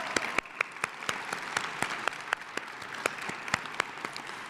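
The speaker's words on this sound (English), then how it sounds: "Let's give them a round of applause." Audience applause at a Black History program in the City of College Park, a steady, moderately near patter of many hands clapping, with sharper individual claps standing out.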